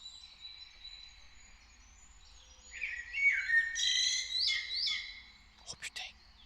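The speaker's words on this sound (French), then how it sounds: "il faut que j'augmente le son des oiseaux pour vous" Birdsong from the Warzone video game plays as a soft run of chirps and warbling phrases over faint low background noise, growing louder midway and ending with a few sharp closing tweets.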